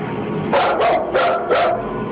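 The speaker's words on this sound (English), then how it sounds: "your full-grown dog is barking nervously and actually backing towards the door to get away" A full-grown dog gives a few nervous, yipping barks in two quick pairs, close and fairly loud over a steady background hum.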